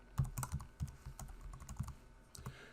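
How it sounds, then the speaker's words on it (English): Keys tapped on a computer keyboard while a password is entered, a quick irregular run of crisp clicks heard close and quiet, with no talking. "and then we'll type in a password."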